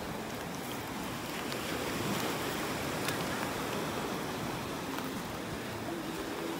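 Waves wash steadily onto a beach in North Naples, Florida, a continuous broadband surf roar with some wind buffeting the microphone and no clear breaks between swells.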